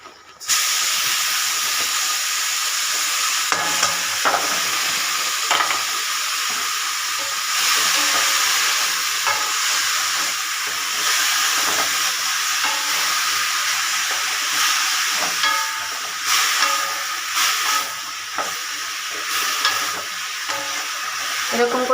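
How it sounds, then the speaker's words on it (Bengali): Leafy greens fry with garlic and turmeric in a hot pan, giving a loud, steady steamy sizzle and hiss that runs throughout, broken by occasional stirring clatters. "এরকম করে শাক ভাজা করলে ভীষণ টেস্টি লাগে"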